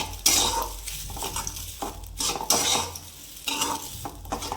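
Food is dry roasted in a pan and stirred with a spatula that scrapes and rasps in repeated close strokes over a faint sizzle, with no talking.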